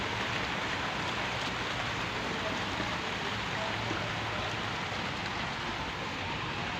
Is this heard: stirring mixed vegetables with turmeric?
no